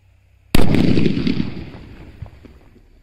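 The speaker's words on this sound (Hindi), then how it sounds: "आपने क्या शानदार बजा हमारा जो बिग साइज का नाजीबम था, क्या शानदार धमाका।" A single loud, sharp blast from a large Indian firecracker bomb after a moment of quiet, followed by a long rumbling echo that slowly fades.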